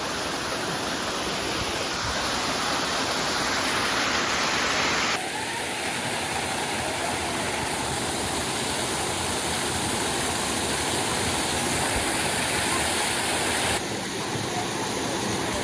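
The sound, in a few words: waterfall stream rushing at Mahkali Temple Saravana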